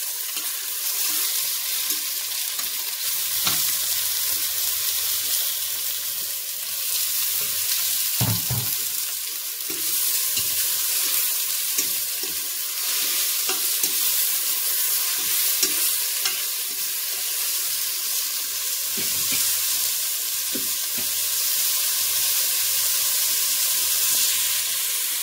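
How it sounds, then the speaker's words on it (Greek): Mushrooms sautéing in a 5-litre, 24 cm pot, a steady close frying and stirring sound with soft sizzle and occasional clinks of the utensil, no talk. "Και να βάλουμε τα μανιτάρια μας για να τα ψιλαρίσουμε λίγο"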